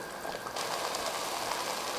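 Prawn biryani rice simmering in a pot as its water cooks off, a soft, continuous bubbling hiss that grows slightly fuller partway through, faint and with no one talking.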